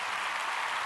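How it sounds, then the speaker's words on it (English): Steady round of applause from an audience, continuous hand clapping with no talk, dense and fairly even throughout. "See, you got a little round of applause there"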